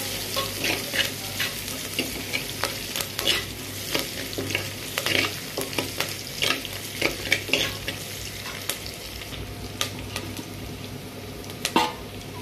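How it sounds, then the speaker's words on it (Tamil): Curry leaves sauté in oil in a pan for brinjal drumstick sambar, with a continuous sizzle under repeated scraping stirs of a spoon against the pan. "கொஞ்சமாக கருவேப்பிலை சேர்த்து நல்லா வதக்கி விட்டுக்கலாம்."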